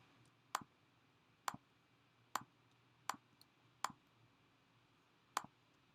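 Sharp computer mouse clicks, six in all, spaced about a second apart with one longer gap, close and crisp over a faint steady hum, no voices.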